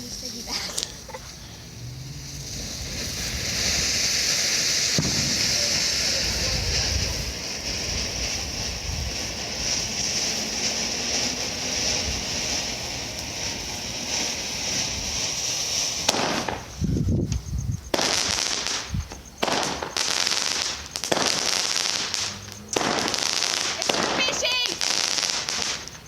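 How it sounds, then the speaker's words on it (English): Shogun Desert at Night fireworks bursting outdoors, a long steady crackling hiss followed by a rapid series of sharp pops and bangs, loud and continuous with some wind. "Firework of the night."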